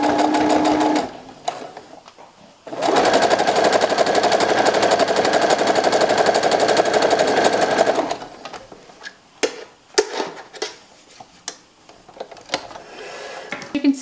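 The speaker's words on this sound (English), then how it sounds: "hold the fabric with your right hand and kind of guide it through the presser foot" A sewing machine runs steadily for about five seconds while stitching tight ruffles with a gathering foot, then gives way to quieter handling and clicking noises.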